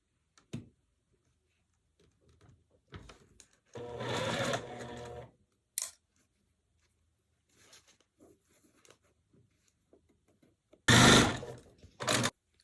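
A sewing machine stitches quilt block pieces in several short bursts, one run of about two seconds and a couple of brief stitching spurts, with quiet handling noises and pauses between.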